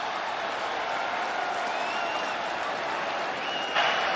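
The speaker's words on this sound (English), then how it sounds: "Crowd noise." A steady roar of stadium crowd noise fills an AAF football game between the Salt Lake Stallions and San Antonio Commanders at home in Salt Lake, a dense continuous wash that surges briefly at the end.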